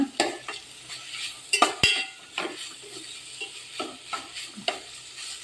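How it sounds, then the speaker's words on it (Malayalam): Grated coconut roasts in a hot pan for a raw banana stir-fry, with repeated scraping strokes of a utensil and light metallic clinks over a faint sizzle. "നന്നായി ഒന്ന് തേങ്ങ ചൂടാകുന്നത് വരെ ഒന്ന് ഇളക്കി കൊടുക്കാം"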